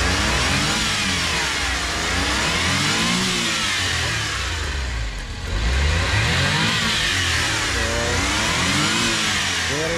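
A Japanese multipurpose mini van's T6E turbo engine revs up and down in repeated swells, loud and close, its steady mechanical drone filling the whole stretch with a brief dip midway.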